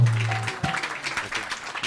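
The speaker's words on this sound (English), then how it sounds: "Give a big round of applause." Short burst of scattered clapping from a gathering after kirtan singing at the ISKCON Coventry Dussehra festival, uneven handclaps fading in and out over a brief stretch.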